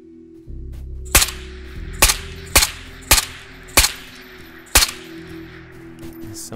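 Six sharp gunshots crack out at a steady pace, roughly one every two-thirds of a second, loud and close over a low background hum in the game Ghosts of Tabor.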